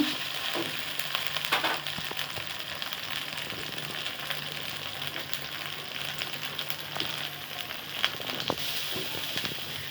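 Fried onion, chili and spices sizzle in a pan under steady stirring, a continuous crackling hiss with occasional scraping strokes and soft knocks from the utensil.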